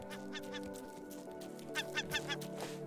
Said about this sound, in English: Oh, I hear a seagull.